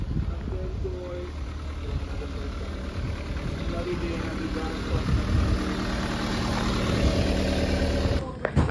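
A car engine idles steadily after a wiring harness replacement, throttle sensor calibration and fuel pump swap, a close, even low rumble with faint voices underneath and a brief knock near the end.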